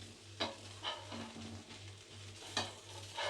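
Rava dosa made from semolina batter frying on a hot pan, giving a continuous close sizzle with a steady low hum beneath and a few scraping clicks from a spatula. No one speaks.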